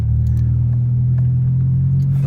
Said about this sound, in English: yeah, that was the exhaust from the outside